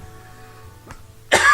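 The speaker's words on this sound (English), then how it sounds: "I got a cough coming on." A single sharp cough from a man playing Hearthstone, bursting loudly at the end after a faint throat sound, close to the microphone with a low background hum.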